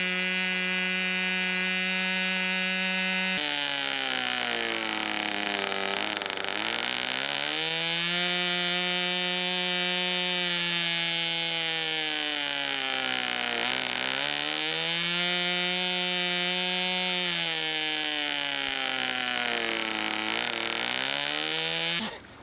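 A small aircraft engine on a Windy U Master 432 B 25 runs steadily at close range with its cowls off while the carburetors are being synchronized, its loud drone rising and falling slowly in pitch as the revs are adjusted.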